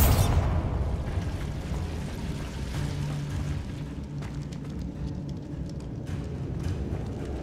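A Bombarda blasting spell goes off in Hogwarts Legacy, a dense, loud rumbling burst at the start that settles into a sustained low roar of debris and crackle, with no voices.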